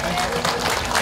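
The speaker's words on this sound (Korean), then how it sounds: "큰 박수 부탁드립니다" Audience applause at a traditional-market open culture festival, a brief burst of crowd clapping mixed with the cheering and voices of an outdoor gathering.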